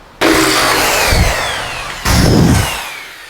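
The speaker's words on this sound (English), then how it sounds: "So we're going to drill them out." Power drill boring out spot welds on an old rusty truck cabin support bar, two loud bursts of drilling with a sharp start, the second following a brief pause, close up and without talk.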